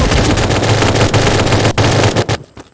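Rapid bursts of automatic gunfire in a zombie shooter game rattle loudly and close, continuous sprays broken by brief gaps before trailing off at the end.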